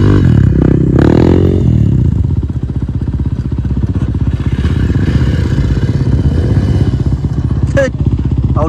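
Three dirt bikes on a practice track, engines revving and buzzing in a loud close pass that fades to a steady mid-distance drone, with scattered clatter and voices heard over it.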